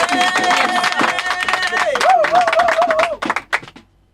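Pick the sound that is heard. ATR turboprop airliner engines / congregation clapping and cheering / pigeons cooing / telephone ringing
congregation clapping and cheering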